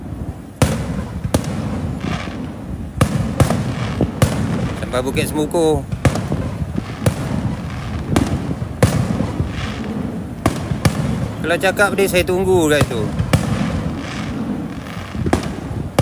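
Fireworks going off at a show in Melaka, with sharp broadband bursts recurring every second or so under steady close conversation, some crackling bursts mixed in.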